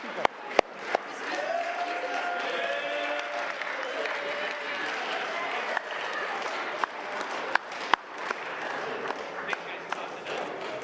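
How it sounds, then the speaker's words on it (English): A crowd at a school gathering in Rosemount, Minnesota breaks into sustained applause, mixed with cheering voices and scattered sharp claps; the clapping stays steady and fairly loud throughout. "Round of applause for these people."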